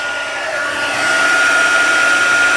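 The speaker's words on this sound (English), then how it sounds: "Bring in my heat tool. Hang on, let me just warm it up for a second." A heat tool for heat setting embossing powder runs continuously, a loud steady blowing whir with a faint high whine, growing slightly louder as it warms up, with no voices.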